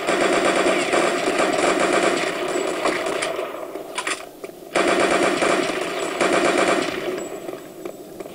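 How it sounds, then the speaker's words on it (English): Rapid machine-gun fire aimed at the player in Return to Castle Wolfenstein rattles loud and close in long sustained bursts, breaking off briefly midway before resuming at full intensity. "Oh god, what's shooting at me?"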